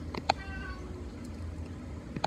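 A pet cat named Castor Kitty gives a few faint, brief meows near a frog and tadpole tank, with quiet room noise between the calls.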